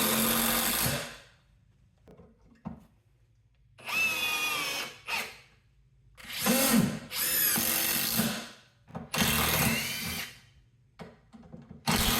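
Metabo HPT brushless drill or impact driver sinking cabinet screws, heard as several loud whirring bursts of a second or two each, separated by short pauses, with rising motor pitch as each screw drives home.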